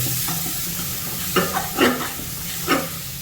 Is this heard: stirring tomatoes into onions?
yes